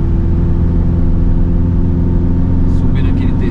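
A Fiat Ducato van, running empty, climbs in third gear with a steady low engine drone and whir heard from inside the cabin. A voice talks over it near the end.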